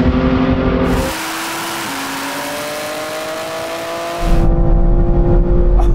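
Lamborghini Revuelto, BMW M3 Touring and Audi R8 drag racing: loud, close engine roar throughout, with rising gear-change tones and a brief dip before the revving surges again.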